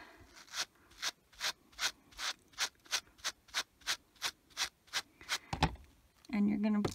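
Fuzzy crocheted bunny yarn brushed upward in quick regular strokes, about fifteen close, crisp scratchy swishes in a steady rhythm, followed by a brief rustle and a voice.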